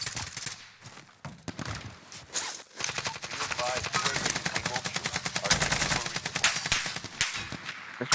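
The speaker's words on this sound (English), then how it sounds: "I'm getting shot from behind." AK47 gunfire in a Warzone match, with bursts of automatic shots coming in rapid rattling volleys across most of the stretch, loud and dense, mixed with game effects and a voice talking over it.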